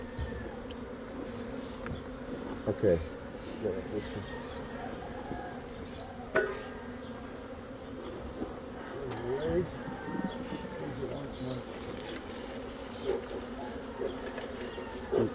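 Bees buzz continuously and close by during a bee rescue on a farm, a steady hum with faint scattered clicks while people speak briefly over it.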